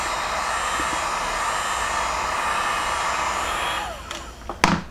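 A heat gun blasting hot air onto a Kydex holster along the slide area, a steady loud blowing roar that cuts off near the end, followed by a couple of sharp knocks.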